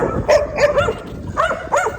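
A dog barks at a dog park: a run of short, sharp yips and barks close by, in quick bursts with brief gaps and low outdoor background noise.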